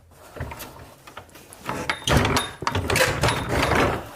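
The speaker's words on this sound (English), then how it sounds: "The door is super stiff." A stiff old wooden church door in a thousand-year-old abandoned castle is forced open, with scraping, grinding and creaking that builds into a loud, rough drag up close.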